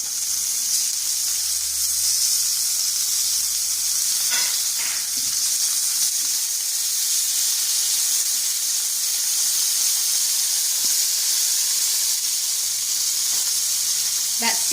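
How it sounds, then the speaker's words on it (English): Pork chops searing in a hot pan, a steady bright sizzle with occasional spits and pops, close by and continuous throughout. "That searing noise doesn't happen on non-stick cookware either."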